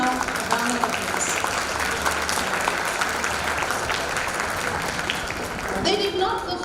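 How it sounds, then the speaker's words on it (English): A loud, sustained round of applause from a crowd at a special school's silver jubilee celebration, dense clapping filling the whole stretch without pause. "I think they need a very loud round of applause."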